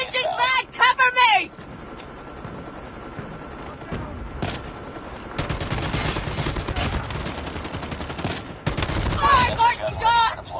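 A light machine gun fires in Call of Duty in long, dense automatic bursts. Shouted in-game voice callouts come before and after the loud, rapid volleys.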